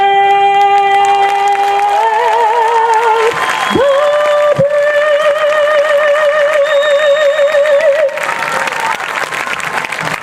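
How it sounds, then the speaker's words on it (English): After the national anthem at a youth football league opening ceremony, an outdoor crowd applauds and cheers steadily, with a sustained tone and a brief voice overhead. "Let's give her another big round of applause"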